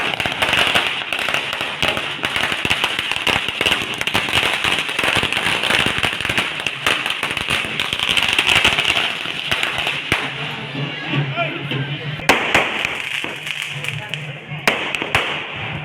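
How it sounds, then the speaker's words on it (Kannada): Firecrackers burst during a festival procession carrying a deity, a rapid, uneven string of sharp cracks and pops lasting throughout, with voices faintly audible in the crowd. "ಪುಟಾಣಿ ಫುಲ್ ಭಯ ಪಡ್ಕೊಬಿಟ್ಟಿದ್ದಾಳೆ ಅಲ್ಲಿ ಪಟಾಕಿ ಹೊಡಿತಾ ಇರೋದಕ್ಕೆ."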